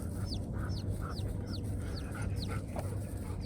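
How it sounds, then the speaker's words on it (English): Baby chicks on a farm, away from their mother, peeping in quick high chirps that repeat steadily and close by over a constant low background hum. "Why are those baby chicks down there without their mom?"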